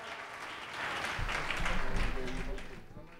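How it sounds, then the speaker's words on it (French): An audience at an evening event applauds the night's sponsor, a soft, distant wash of clapping that swells and fades, with low thumps and faint voices beneath. "On applaudit très fort pour le parrain."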